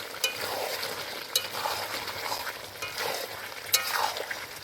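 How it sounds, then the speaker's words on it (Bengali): Chicken pieces simmer and fry in plenty of oil, a steady soft sizzle with occasional light stirring clinks and scrapes, close by and without speech. "একটু আমার ফুটতে থাকুক মাংসটা দেখি কীরকম হচ্ছে"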